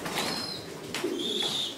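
Breeding pigeons in a loft give soft, short coos against a steady background of other birds and room noise, close by and fairly faint.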